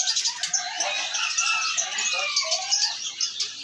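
Dense chorus of many small birds chirping at once at a bird market, busy overlapping high twitters close by, steady throughout without talk.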